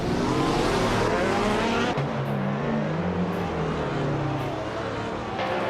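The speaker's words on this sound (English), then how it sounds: "Timborghini Tuba is driving a 2009 Nissan GT-R GT1" A 2009 Nissan GT-R GT1 race car in a racing video game roars steadily through the whole stretch, its engine droning loud and continuous with shifting pitch and faint tire noise, and no voices over it.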